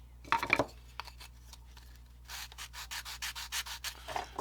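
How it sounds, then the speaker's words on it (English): Coarse molding paste on an HO scale model yard office is sanded by hand: a few quick scratchy strokes, then a run of rhythmic rubbing passes. The strokes are close but soft. "then I just sand it"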